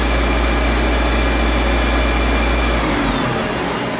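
A Mori Seiki SL-15 CNC turning center spindle runs at about 3,500 RPM, giving a loud, steady rushing roar with a deep low rumble that drops away near the end.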